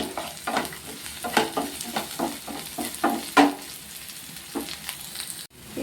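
Green chilies and curry leaves frying in hot oil for poha, a close bubbling sizzle with repeated stirring scrapes and crackles that cuts off abruptly near the end, no speech.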